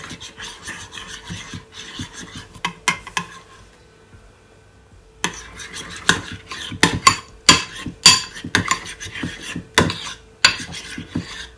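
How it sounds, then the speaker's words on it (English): A spoon stirring sauce in a dish, with scraping and rubbing strokes and sharp clinks against the bowl, a short pause partway, then a busier run of loud taps and scrapes. "You just want to take your spoon, you just want to mix it all in."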